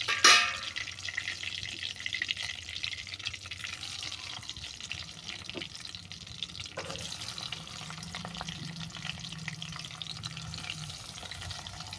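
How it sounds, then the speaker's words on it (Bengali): Cauliflower pieces fry in hot oil with a continuous crackling sizzle, close and low in level, a brief clatter at the start and occasional soft knocks throughout. "এই তেলের মধ্যে ফুলকপিটাকে ভেজে নিচ্ছি"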